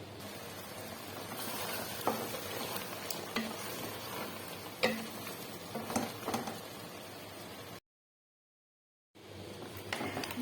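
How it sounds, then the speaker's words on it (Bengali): Potatoes frying and being stirred in a pan as the first step of a Qatari-style mixed vegetable dish, a steady sizzle broken by scraping stir strokes, close and fairly loud, with a short silent gap before the frying resumes. "এখন আমি আলুগুলো সুন্দর করে আগে কষাই নেবো।"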